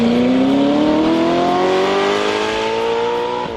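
A Gran Turismo supercar of up to 1000 hp revs its exhaust in one loud, close, continuous roar that climbs steadily in pitch and fades slightly at the end, with no talking.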